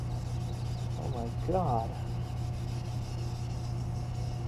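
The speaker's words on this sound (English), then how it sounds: "This is almost restoring it just with sanding." A Subaru WRX grill being sanded gives a faint, steady rubbing hiss under a low hum, with a brief spoken exclamation partway through.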